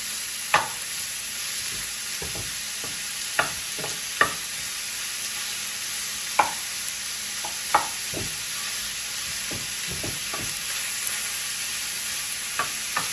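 Bacon and chorizo sautéing in a pan for Mexican charro beans, a steady close sizzle and hiss punctuated by a dozen or so sharp utensil scrapes and taps at irregular intervals, with no talk.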